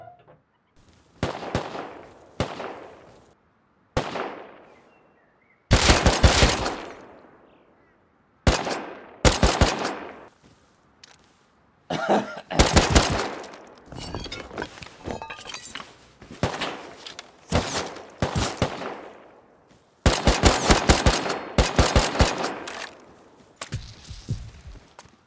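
Gunfire in a video game as a 16-round magazine is emptied, loud bursts of rapid shots in separate clusters with short pauses between them, ringing tails trailing off between volleys.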